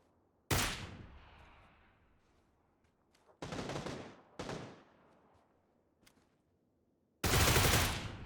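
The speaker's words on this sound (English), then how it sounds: "I'm going to shoot you, mate." Loud gunfire from the video game PUBG on Xbox Series X, a sharp burst followed by two shorter bursts and a final loud burst, each with a fading echo tail between shots.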